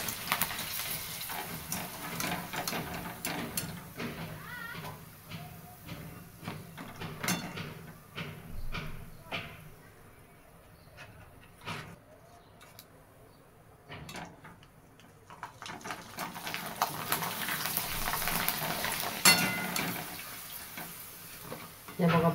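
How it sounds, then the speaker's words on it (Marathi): Rice papad frying in hot oil, a soft crackling sizzle that swells and fades, heard faintly with some quieter gaps and occasional clinks. "हे बघा, ह्याला आता आपण तळून घेऊया."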